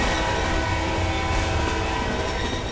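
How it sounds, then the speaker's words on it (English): Video game trains rumble loudly through a tunnel, with a dense, continuous rolling roar, rail clatter and metallic tones filling the space, close and overwhelming, with no voices. "The trains are just too noisy, I think, for my opinion."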